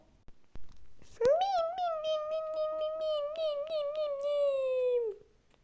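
A cat in the video game ChickenGun lets out one long, drawn-out meow lasting several seconds, clear and close, after a couple of soft clicks at the start.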